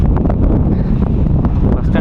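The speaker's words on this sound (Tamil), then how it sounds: "நல்லா காற்று வேறு கிளுகிளுன்னு அடிக்குதுங்க" Wind buffets the microphone at a hilltop viewpoint near a bus stop on the Anaikatti–Attappadi route in Kerala, a loud constant rumble with gusty rustling throughout.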